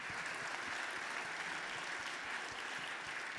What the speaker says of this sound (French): Vous pouvez applaudir bien chaleureusement.